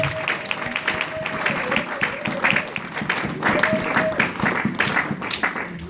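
A church congregation applauds in a steady wash of clapping that lasts throughout, mixed with crowd voices and a sustained tone underneath.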